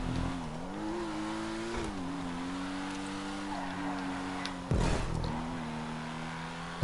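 Vapid Flash GT sports car engine from Grand Theft Auto 5, revving and holding a steady droning tone with shifting pitch, loud and continuous throughout, with a brief bump in intensity near the end.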